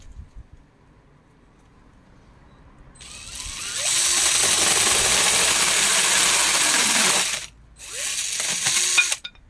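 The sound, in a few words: drill with mini chainsaw attachment cutting pallet wood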